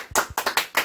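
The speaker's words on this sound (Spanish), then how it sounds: "¡Aplausos!" Children clap for their mother in a home kitchen after she finishes making loroco tortitas, with about five close, sharp, uneven claps in under a second.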